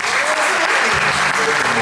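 Nominees and audience at an awards night applauding themselves, loud close clapping filling the room, with voices faintly mixed in underneath.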